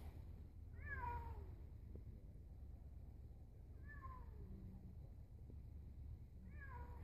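A cat stuck up a tree meows three times, each cry faint and distant, spaced a few seconds apart over steady low outdoor background noise.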